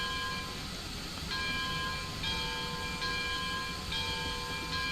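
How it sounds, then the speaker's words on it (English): A video-game train bell rings steadily with repeating metallic strikes, set against a constant loud rumble of the locomotive. "they just have the bell going"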